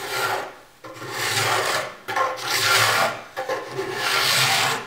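A hand rasp or file shapes a wooden ogee bracket foot, its strokes rasping in long, steady passes separated by brief pauses, close and loud with no talking.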